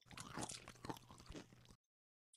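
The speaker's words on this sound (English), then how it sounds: "What's that crunching sound?" Someone munches a mid-morning snack close to the microphone, a dense run of crunchy chewing and biting for under two seconds, then silence and a faint rustle.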